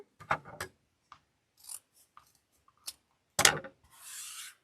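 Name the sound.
scissors cutting wreath material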